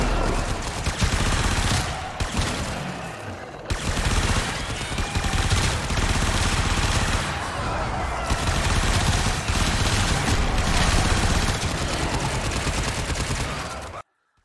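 Sustained automatic rifle fire from a Super Vandal in a video game, dense rapid bursts running almost continuously at close range and loud, cutting off abruptly at the end.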